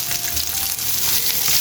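Fish sizzles and fries steadily in a hot pan, a continuous close, bright crackle with no voices over it.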